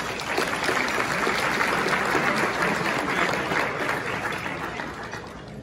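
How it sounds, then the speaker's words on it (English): A room of guests at an award luncheon gives the sponsors a round of applause, dense sustained clapping from many hands that fades slightly toward the end. "So if we could give all of those sponsors a nice round of applause."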